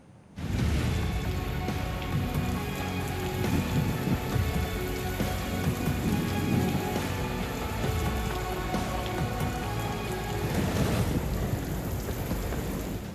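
Heavy monsoon rain pours down steadily in Karachi, a dense, loud roar of drops drumming on surfaces that runs unbroken for over ten seconds.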